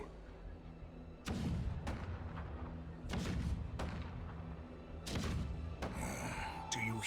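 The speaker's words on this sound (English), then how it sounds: "The rumble of the cannons." Heavy booms of cannon fire in the Honkai: Star Rail video game land in a few separate deep thuds, each with a rumbling tail, behind a background score.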